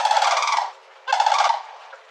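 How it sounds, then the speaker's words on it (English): A bird's call, used as a sample for building instruments, comes as two loud, close, rapid gobbling bursts like a turkey, each rattling for about half a second with a short gap between, no talk. "all of these fun sounds were made just from the call of this bird"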